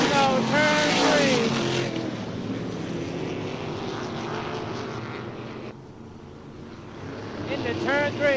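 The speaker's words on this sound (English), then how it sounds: "Into turn three, it's Payne and Wood on the throttle." Supermodified race cars roar around Star Speedway in a 1996 ISMA heat, engines droning loud and continuous with pitch sweeps as cars pass, under a track announcer's commentary.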